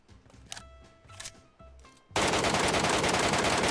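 Automatic gunfire in a mobile shooter match erupts as a dense, loud burst of rapid shots after a couple of sparse isolated pops, continuing nonstop to the end.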